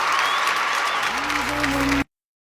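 Loud applause from an awards-show audience at a Filmfare event, a dense continuous clatter of many hands, with a tonal musical sound entering halfway through before everything cuts off abruptly.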